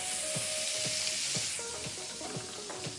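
Minced shallots sizzle in hot bacon fat and melted butter in a pan, giving a close, steady crackling hiss broken by soft popping and stirring sounds.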